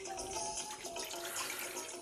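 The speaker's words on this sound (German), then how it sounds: "also tue ich ein bisschen Wasser rein" Tap water runs into a cooking pot in a home kitchen, a steady close rushing splash that holds evenly throughout with no speech.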